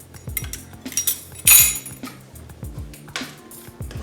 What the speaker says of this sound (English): We're going to give it all a nice mix.